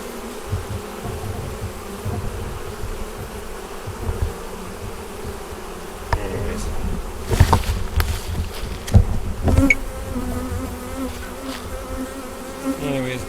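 Many bees buzz around a nuc hive, a continuous close hum with individual insects whizzing past the listener, growing louder and busier toward the end.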